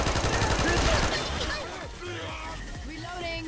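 Video game gunfire crackles in dense, rapid automatic bursts that fill the first half, then thins into scattered shots, with players talking over the action.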